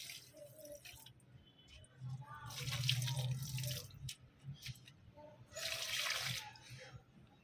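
Liquid fertilizer poured onto the soil of potted hibiscus and rose plants, with two louder splashing pours around the middle and near the end, separated by quieter trickles and drips.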